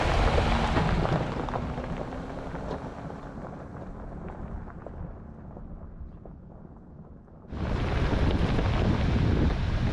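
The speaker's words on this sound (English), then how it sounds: "But gosh, it's just so windy." Strong wind roars and buffets the microphone, easing briefly before gusting back at full force. No voices.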